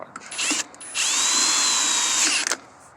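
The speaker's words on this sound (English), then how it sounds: "on my cordless drill, so it's just right" A cordless drill whirs in two bursts, one short and then a longer steady high-pitched run, close and loud, while disassembling a Chevy C10 Turbo transmission, with no talk.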